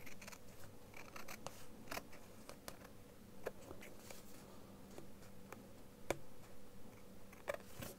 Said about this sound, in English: Nothing a big pair of scissors can't handle.